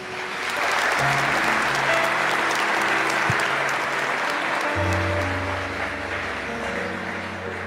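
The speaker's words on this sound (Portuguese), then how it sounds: "Dê uma salva de palmas para os anjos da tua casa." A church congregation applauding during a sermon, a dense sustained round of clapping that swells and holds for several seconds, with faint voices and music tones underneath.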